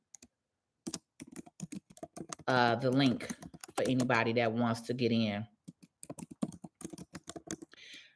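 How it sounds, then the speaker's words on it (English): Keys clatter on a computer keyboard, quick irregular bursts of close clicking that pause while someone speaks and then resume in short rapid runs. "I'm just typing in on YouTube"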